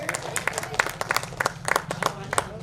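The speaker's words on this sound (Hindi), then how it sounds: "मैडम को तालियों से स्वागत करें।" Scattered clapping from an audience, a steady patter of many hands with some crowd murmur underneath.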